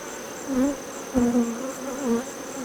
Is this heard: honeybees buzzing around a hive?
yes